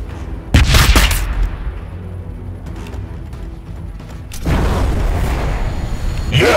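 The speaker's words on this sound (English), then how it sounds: "Throwing grenade!" Grenade blast and gunfire in the Warhammer 40,000: Battlesector PC strategy game, with a loud boom near the start, a quieter stretch of scattered shots and rumbling, then a sustained wash of heavy fire toward the end.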